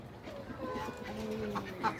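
Pigeons on a rooftop coo softly in low, rolling murmurs nearby, with faint background noise and a brief sharper sound near the end.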